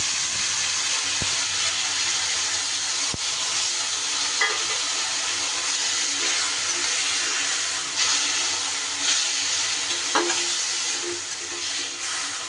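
Water lily stems stir-fried with roasted grated coconut in a pan: a steady broadband sizzle holds throughout, with occasional soft scrapes and clicks of stirring, close and fairly loud, with no voices.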